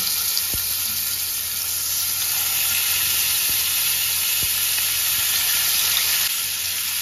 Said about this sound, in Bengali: বাকি মাছগুলো আমি একই রকম ভাবে ভেজে নেব।